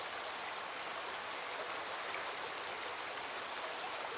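Steady rain falls in a cartoon scene where two characters ride in a coconut boat, an even, continuous hiss of dense raindrops with no breaks and no voices.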